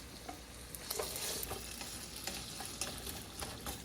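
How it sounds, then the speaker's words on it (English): Potatoes frying in a hot pan for clam chowder, a steady dense sizzle with occasional crackles and stirring scrapes, close and moderately loud throughout. "pan is hot. Let's go in with the potatoes"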